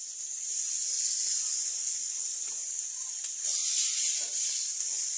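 Beef dropped into hot magic oil for a sweet adobo over a wood fire gives a steady, loud hiss of frying that holds evenly throughout, with no voices.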